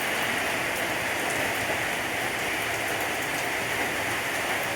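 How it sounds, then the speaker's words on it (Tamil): Heavy rain pouring outside a house: a dense, constant roar of downpour that stays evenly loud throughout, with no voices. "நல்லா மழை பெய்தா நமக்கு நைட்டு ஜில்லுன்னு இருக்கும்."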